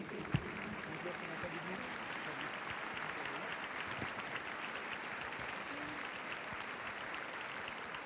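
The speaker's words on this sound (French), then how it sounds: "nous allons continuer à applaudir les cavalières et cavaliers, les Talents Hermès" An audience at the Grand Palais applauds the young riders of the Talents Hermès under-25 show jumping class at Saut Hermès 2018, a steady, dense wash of clapping that fills the hall without pause.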